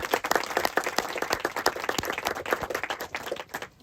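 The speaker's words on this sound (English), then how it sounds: "please give a round of applause for our wonderful panel" An audience at a launch event claps for a panel. The hand claps are distinct and uneven, fairly close, and the sound swells and dips across a few seconds.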